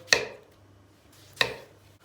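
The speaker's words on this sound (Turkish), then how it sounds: "Domatesleri de şöyle halka halka doğrayacağız" Knife chopping tomatoes into rings on a board, two crisp separate cuts about a second apart, close and clear in a quiet kitchen.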